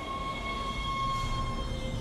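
A tram in the sci-fi video game Dead Space moving along its track, with a steady mechanical hum, a sustained high whine and low rumble, continuous and fairly loud, with no voices.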